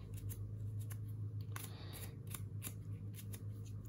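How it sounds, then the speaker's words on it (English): Scissors trimming the butt ends of spun deer hair on a fly-tying bug, a series of sharp, crisp snips in an uneven rhythm, close and quiet over a steady low hum, with no talking. "Hold it like this and trim the butt ends off."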